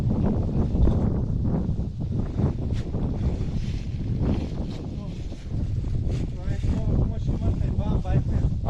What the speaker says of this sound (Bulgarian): Много се духа, бе.